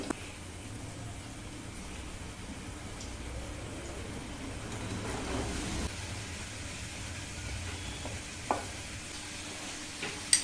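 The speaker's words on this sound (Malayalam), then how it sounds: "നമുക്ക് സവാള കുനുകുനാന്ന് അരിഞ്ഞു വെച്ചിരിക്കുന്ന ഇടാം" Chopped onion with salt sautés in a pan, a soft steady sizzle and stirring hiss with occasional light scrapes and taps, fairly quiet and without talk.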